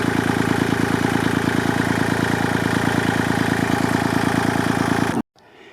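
A Kubota L2501 tractor engine, fitted with a newly installed electric fuel pump, idles with a steady, loud, close diesel rumble for about five seconds before cutting off abruptly into near silence.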